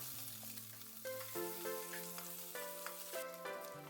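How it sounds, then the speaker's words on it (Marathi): Cumin seeds and onion fry in ghee for aloo methi, a soft, quiet sizzle with light stirring and faint clinks throughout; no voices. "त्यात 1 चमचा जिरं टाकून ते छान परतलं की आपण कांदा टाकून घेणार आहोत"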